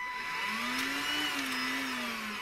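A rebuilt battery-powered vacuum cleaner runs with a steady whirring motor whine that rises slightly in pitch and then settles, heard close up.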